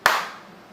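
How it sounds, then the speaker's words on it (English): A single sharp hand clap, close and loud, with a short room echo trailing away and no talk. "So I'm gonna clap my hands"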